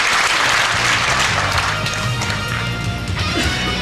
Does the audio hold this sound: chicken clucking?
no